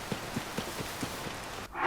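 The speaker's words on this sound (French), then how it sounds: "Forcément, il pleut." Steady rain patters in Zelda: Tears of the Kingdom, a soft continuous hiss with faint regular ticking, ending in a brief louder swell.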